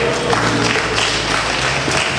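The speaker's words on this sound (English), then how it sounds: "that applause is not ovation enough" A lecture audience at a university town-and-gown series applauds loudly, a dense, continuous wash of clapping from a full hall with no voices over it.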